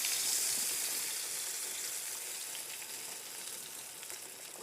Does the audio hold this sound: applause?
no